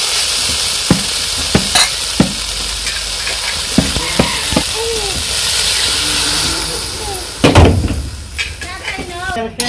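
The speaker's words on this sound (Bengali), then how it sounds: "আমার সবজি কষানো শেষ অল্প একটু জল দিয়ে দিই" Water poured into a pan of sautéed vegetables in a simple village kitchen, with a sudden loud burst of hissing steam and sizzle midway, set among scattered spatula clacks and a steady frying crackle.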